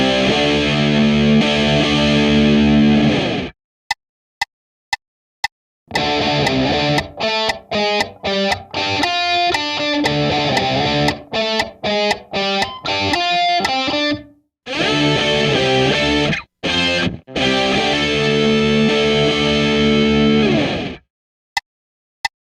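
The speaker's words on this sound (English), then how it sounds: "This next example incorporates chord tones to give the melody a beefier, more metal sound." A distorted electric guitar plays a 12-bar blues melody built on chord tones in a heavy metal-flavored tone, loud and close, with sustained chords, choppy rhythmic phrases and abrupt silent gaps.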